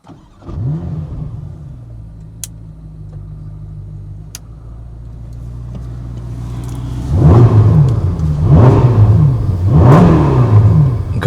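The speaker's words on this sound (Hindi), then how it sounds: "अब देखो आप आइडल पर स्टार्टअप कैसा है इसका।" A 2026 Ferrari's engine fires up and settles into a steady idle, then revs in three loud, rising bursts near the end, close and alone with no talk.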